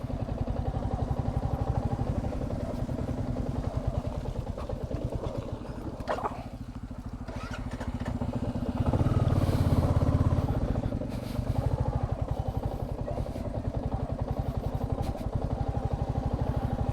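A Royal Enfield motorcycle on a muddy road, its engine labouring and losing power, gives a steady, loud thumping drone that swells around the middle, with faint clatter and no talking.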